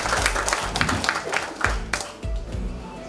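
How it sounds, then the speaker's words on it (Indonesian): Audience at a sago food-processing training event giving applause, a sustained patter of many hands clapping with a few heavier low thumps, fairly close. "Mari kita memberikan aplaus lagi."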